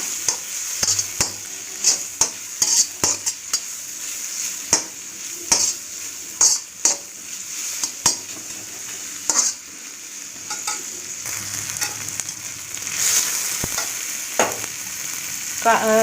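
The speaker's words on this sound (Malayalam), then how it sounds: "ജസ്റ്റ് ഒന്ന് വഴണ്ട് വരുന്നുണ്ട് നമ്മളെ സവാള" Sliced onions sizzle as they sauté in a pan for Kerala-style kappa mutta, a street-food egg and tapioca dish. A bright, steady frying hiss runs throughout, punctuated by frequent close scraping clicks from stirring, with no talking.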